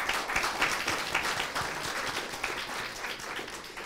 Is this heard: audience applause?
yes